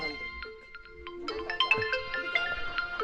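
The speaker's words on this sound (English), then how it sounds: "So there's a phone ringing over here." A phone rings in a village setting, a tonal electronic ringtone with repeating short melodic notes over roughly three seconds, moderately close, alongside background voices and activity.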